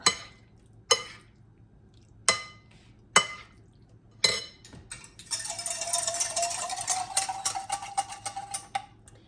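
Egg salad with croutons mixed in a bowl, starting with several separate sharp clinks of a utensil against the bowl, then a steady stretch of scraping and crunchy stirring, close up with no talking.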